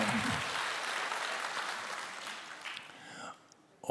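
An audience at a talk concert applauds steadily, a dense crackle of clapping that gradually thins out and fades over a few seconds.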